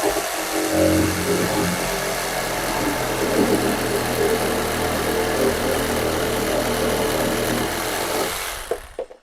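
A Procraft RS20A cordless reciprocating saw cuts at full speed, a loud, dense buzzing drone that holds steady for about nine seconds and then stops abruptly.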